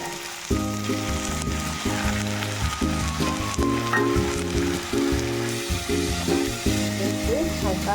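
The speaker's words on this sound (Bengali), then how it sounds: "দেখুন এটা প্রায় ভাজা হয়ে এসছে সুন্দর।" Food fries steadily in a pan with a loud, continuous crackling sizzle, broken by rhythmic clinking strokes as it is stirred, while a voice murmurs faintly in the background.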